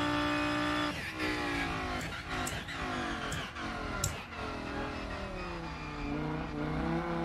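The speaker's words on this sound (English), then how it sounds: "I don't really know how the Audi R8 sounds in real life. But it sounds fun in the game." In the Rennsport racing game, an Audi R8 race car engine screams loudly at high revs through repeated quick upshifts, each gear change cutting the pitch before it climbs again, sustained with no talk.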